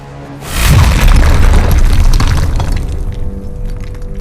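A nuclear bomb detonates in the fighting game Injustice: Gods Among Us, a loud, deep boom that swells suddenly and rumbles on for several seconds as a sustained roar, slowly thinning out.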